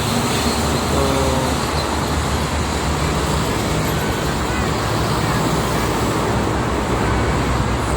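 Steady dense traffic rumble on the busy Jakarta-Cikampek toll road in the morning, a continuous wash of passing cars and heavier vehicles, loud and unbroken throughout.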